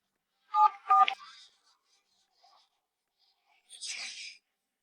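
A telephone number being dialed, heard as two short keypad beeps close together, then near silence and a brief soft rustle.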